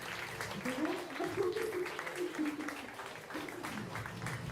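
Applause from the audience at a design competition award ceremony as the winner is announced, a soft, steady patter of clapping held under a voice talking throughout.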